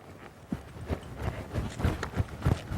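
Horse hooves loping across a reining arena during collection work, a steady rolling three-beat of soft thuds, fairly close and moderately loud, with no talking.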